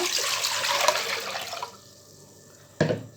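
Water pours into a cooking pot for sweet pongal as a continuous splashing flow that stops abruptly. A short splash follows after a brief quiet pause.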